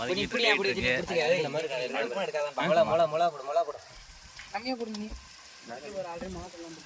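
Ingredients for biryani sauté in hot oil with a soft sizzle, largely buried under close, continuous talking.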